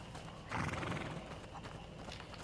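A horse in the medieval video game A Plague Tale: Innocence gives a loud, close whinny followed by clopping hooves, with quiet game ambience around it.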